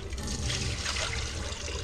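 Tap water runs steadily from a faucet for a rinse, a continuous close splashing hiss with no pauses and nobody speaking over it.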